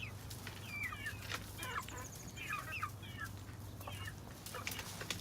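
Chickens and young cockerels clucking and chirping in a flock, a run of soft repeated clucks and squawks over a low steady background hum, no talking.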